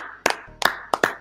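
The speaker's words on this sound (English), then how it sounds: "Big round of applause." A few sharp hand claps ring out in a studio audience on a midday live talk show, four distinct bursts spaced unevenly over about a second, fairly close and not a full sustained ovation.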